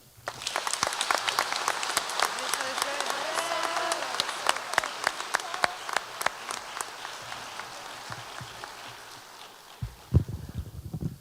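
Loud crowd applause rings out at a middle school promotion ceremony, many hands clapping densely at first, then thinning and fading toward the end before a few louder thumps close it.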